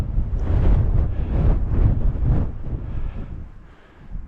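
Southwesterly wind gusting across an exposed Northumberland hilltop, a loud broadband rumble that swells and buffets the microphone in waves, then eases toward the end with no voices.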